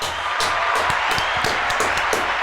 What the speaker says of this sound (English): give him a round of applause, Misa